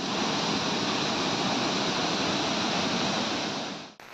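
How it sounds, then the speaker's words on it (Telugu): Bogatha waterfall runs in flood after heavy rain, a loud, continuous roar of rushing water that holds steady and then cuts off abruptly at the end, with no voices. "బోగతా జలపాతానికి వరద పెరిగింది"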